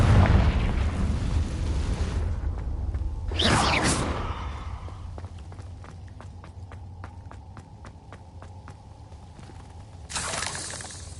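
In Hogwarts Legacy, a Confringo spell goes off with a sharp whooshing blast, followed by a run of light ticking footsteps and ambient game sound, then another burst near the end.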